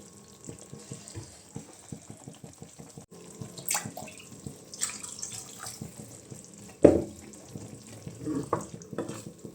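Water poured into a pot of simmering taro root (seppankizhangu) kuzhambu, a soft uneven splash and trickle with light clinks and stirring, one sharper knock near the end, quiet and close.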